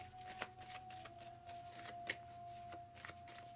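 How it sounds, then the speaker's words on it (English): Oracle cards from a Mystical Shaman deck being shuffled and drawn, soft papery riffles and flicks at an irregular pace, close and quiet over a steady faint hum. "Let's pull a Mystical Shaman Oracle card."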